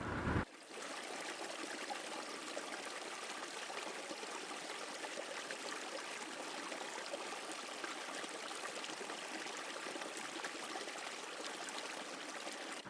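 A forest stream in Bandhavgarh National Park flows steadily with a soft continuous trickling and rushing of water, moderately faint and unbroken, with no voices.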